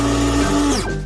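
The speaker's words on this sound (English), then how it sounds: "And I'll blend the milk on my own as well." A close, steady mechanical whir with a high whine that winds down at the end, from a small electric device blending milk.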